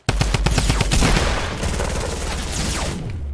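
Rapid bursts of gunfire in a Fortnite build fight, a dense, loud volley of quick shots in the first second and a half, then a sustained rumbling, ringing wash of shots and effects.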